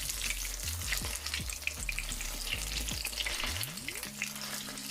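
Jamaican saltfish fritters fry in hot oil with a loud, steady sizzle, while a fork scrapes and presses them in the pan with repeated short strokes and a rising tonal sweep near the end.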